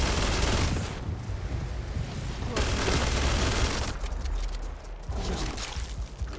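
Magshear weapon firing in the Starfield video game, a dense, continuous rattle of rapid gunfire sustained for several seconds with brief dips, loud and close.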